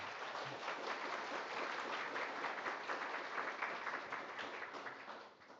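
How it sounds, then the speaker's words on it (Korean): A church congregation applauds warmly during a Sunday worship service at Hanmaeum Methodist Church in Hannam-dong, Seoul: dense, steady clapping from many hands fills the space, then begins to thin and fade near the end. "우리 한번 뜨거운 박수"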